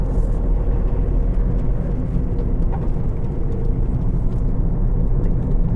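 A car cruising on a highway gives a steady, loud rumble of engine and road noise with an even wind-like whoosh and no gaps, with nobody speaking.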